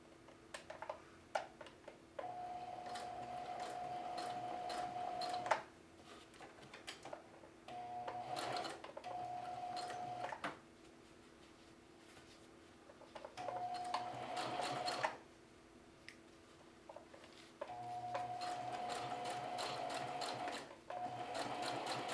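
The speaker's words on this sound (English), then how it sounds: "I'm just going to do a little bit of sewing all the way around" Sewing machine stitching around a jeans front pocket, running in several steady rapid bursts of even needle clatter separated by short pauses, close and clear.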